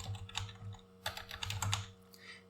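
Fingers typing on a computer keyboard while writing HTML and CSS in a code editor: short irregular bursts of crisp, close key clicks with brief pauses between them, no voices.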